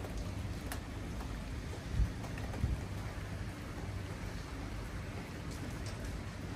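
Rain falls steadily outside a hotel balcony overlooking a garden in Paris, a soft, even hiss with a couple of faint low thumps, quiet and with no voices.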